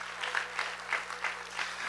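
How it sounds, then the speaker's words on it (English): A school audience at a middle school spring choir concert applauds the choir booster members, a steady wash of clapping with soft, even swells from start to finish and no talk over it. "let's give them a round of applause"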